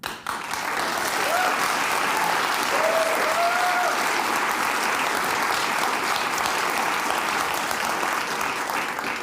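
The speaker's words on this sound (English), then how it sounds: "That line will get you an applause break from all sides." A studio audience breaks into loud, sustained applause during a talk-show segment, a dense wash of clapping and cheering that holds steady for the whole stretch.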